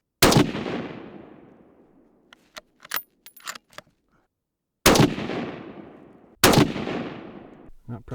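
Three loud rifle shots fired at a target outdoors at an off-grid cabin in northern Minnesota, each a sharp crack with a long decaying echo, separated by quiet pauses with faint handling clicks.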